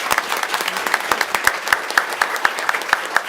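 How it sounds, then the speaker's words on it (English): Steady applause for police officers in a city commission meeting room, a modest group clapping with several loud, crisp claps close by standing out in a regular rhythm. "So once again, could we give our police officers a round of applause?"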